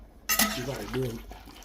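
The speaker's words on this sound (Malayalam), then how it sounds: "ഇങ്ങനെ ഇളക്കിയിട്ടാൽ മതി" A chicken stew being stirred in a pot gives a short burst of metal scraping and clinking, close and fairly loud, with a voice talking over it.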